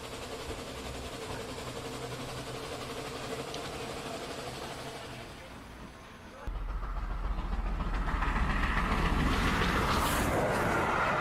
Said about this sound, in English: It's a cool looking locomotive.